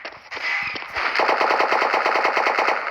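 Rapid automatic gunfire from a special forces video game, loud sustained bursts with a steady rattling rhythm, alone without talk.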